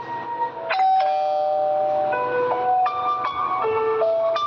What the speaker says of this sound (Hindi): सोन सीधा गुल्ली के घर की डोरबेल बजाता है।